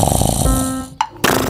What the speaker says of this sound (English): now the owl is snoring